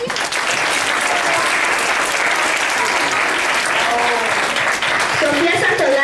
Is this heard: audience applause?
yes